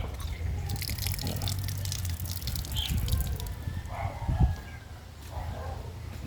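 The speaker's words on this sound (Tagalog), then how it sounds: "Pero may tulo pa rin. Malakas pa tulo." Water drips and trickles steadily from a leak, close and fairly faint, with a rooster or chickens audible in the background.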